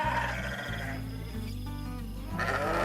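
Sheep bleating on a farm: several loud, drawn-out bleats close by, overlapping and wavering, with short pauses between calls.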